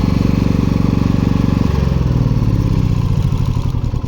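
A Senci SC 4000i inverter generator running at about 1.8 kW load drones loudly and steadily, then its engine note abruptly shifts and begins winding down as it is switched off; no voices.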